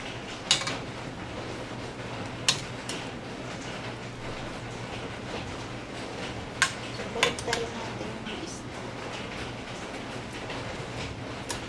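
Sporadic metal clinks and scrapes of a utensil stirring a pot of simmering fish sinigang over a steady background hum, a few sharp taps standing out.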